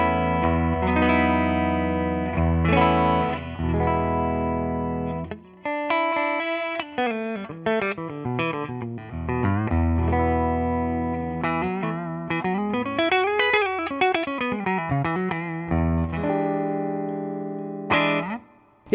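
Jackson MJ Soloist SL2 electric guitar on the neck pickup, played through effects in a flowing passage of sustained chords and quick runs, warm and smooth, loud and close, with no talking.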